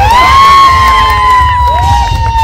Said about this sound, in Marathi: एकदा जोरदार टाळ्या अध्यक्ष साहेबांसाठी